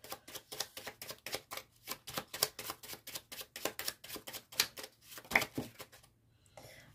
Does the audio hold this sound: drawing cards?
yes